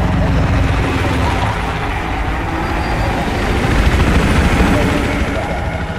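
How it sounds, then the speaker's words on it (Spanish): A military helicopter in the Battlefield 4 game drones steadily and loudly overhead, its thick rotor wash and engine roar filling the whole stretch without letup. "Ese helicóptero me da mala espina."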